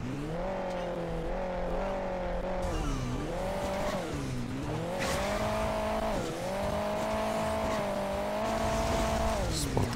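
Sports car engine in the Hill Climb Racing 2 mobile game drones continuously, its pitch rising and dipping repeatedly with gear shifts and acceleration, loud and close, with occasional tire squeal.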